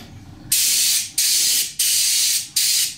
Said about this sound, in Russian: чуть-чуть распыляем за счет расстояния пистолета, убираем, чтобы напыл был не резкий